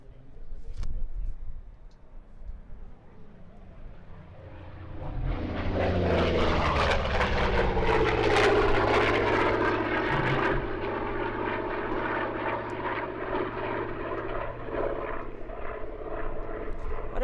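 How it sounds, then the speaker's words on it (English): A Russian MiG-17 jet flies at an air show, rising from a distant rumble into a loud, sustained roar as it passes close overhead, then lingering as a broad rushing drone. "one of the aircraft you're going to see flying down on stage adjacent is the Russian MiG-17"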